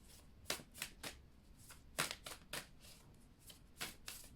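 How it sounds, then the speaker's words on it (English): A deck of tarot spirit animal cards is shuffled by hand, quiet crisp riffling bursts repeating in an uneven rhythm, close and soft, with no voices. "I would like to draw another spirit animal card"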